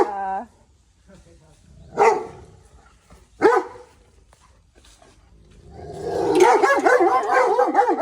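A deep, loud Rottweiler bark rings out a couple of times, separated by pauses, followed by a longer stretch of whining or yelping vocalizing.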